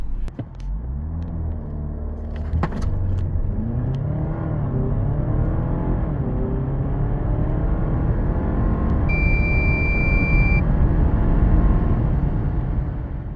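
Jeep Grand Cherokee 2.0 Turbo plug-in hybrid accelerating hard from 0 to 100 km/h: a loud, continuous engine drone and road rumble that climbs steadily, with a brief electronic beep near the end.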